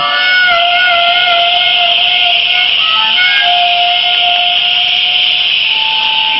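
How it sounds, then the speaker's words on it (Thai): Many whistles blown by a protest crowd sound together as a loud, continuous shrill chorus with several sustained overlapping pitches, steady and unbroken with no voices. "เป่านกหวีดเลยครับ"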